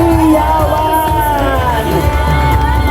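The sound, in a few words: parade crowd shouting and cheering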